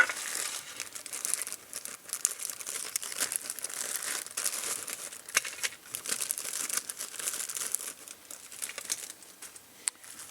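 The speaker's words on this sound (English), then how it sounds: "Bunch of little plastic bags" Small plastic bags holding electronic kit parts crinkle and rustle continuously up close, with crisp irregular crackles and occasional sharper snaps, no talking.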